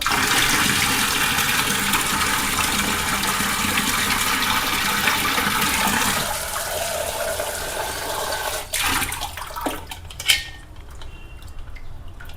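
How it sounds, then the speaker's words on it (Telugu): Cold water pours in a loud, steady gush over hot boiled eggs in a vessel. Near the end the flow breaks off, and a few clinks of eggs and the pot follow. "వేడివేడిగా ఉన్నాయి చల్లనీళ్ళు పోతాం"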